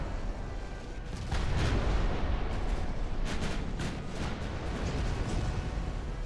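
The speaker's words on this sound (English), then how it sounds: "the Ewing got hit by 2 torpedoes" Torpedoes strike a warship in the naval combat game Ultimate Admiral: Dreadnoughts, giving a sustained, rumbling barrage of heavy booms that swells after the first second and stays loud and dense to the end.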